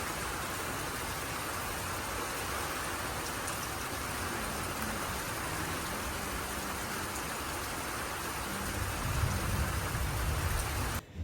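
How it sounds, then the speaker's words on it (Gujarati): Steady rain pours down outdoors as a dense, even wash of patter that continues without pause and swells slightly louder toward the end, with no voices. "અત્યારે તમે જોઈ શકો છો વરસાદ છે ને થોડીક વાર બંધ થઈ જાય છે થોડીક વાર બહુ વરસાદ આવે છે"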